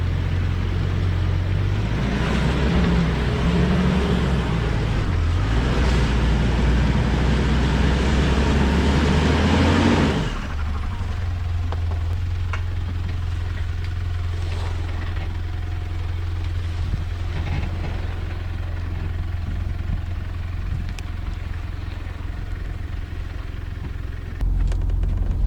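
A Pajero 4WD engine drones steadily while crawling off-road over rocks with traction control working, a loud continuous low rumble that rises in effort then settles to a lower, even hum.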